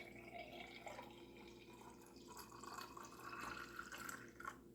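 Simply Pineapple juice is poured into a glass at a kitchen counter, a steady liquid stream running for several seconds at moderate, close level with no talking.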